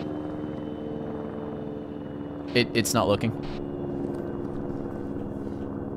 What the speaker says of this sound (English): Helicopter's right over us.